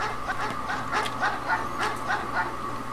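Dogs in the video game Mega Man Legends bark in a rapid, repeating series of yips at moderate volume, steady against a faint background hum.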